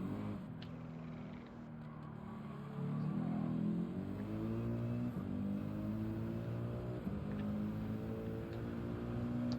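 Race car engine in the Gran Turismo 7 racing game drones continuously with a harmonic tone that climbs and shifts as it accelerates, steady and fairly loud, with no talk.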